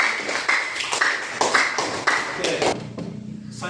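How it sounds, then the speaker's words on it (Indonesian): Students in a classroom clapping for a classmate, a short burst of loose, uneven claps in several quick waves, fairly close, fading toward the end. "Oke, tepuk tangan untuk dia dulu."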